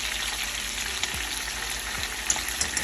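Salmon fillet frying in a pan with a steady, close broadband sizzle, a few faint pops and light clinks over the top, no talk.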